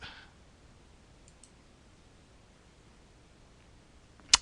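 A single sharp computer mouse click on a submit button comes near the end of a quiet stretch, with a faint tick earlier in the clip.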